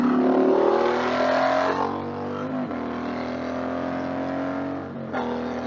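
An Indian Challenger motorcycle with a 112 big bore kit accelerates hard as its rear tire fails to hook, the engine roaring steadily loud and close, with gear changes audible as brief dips.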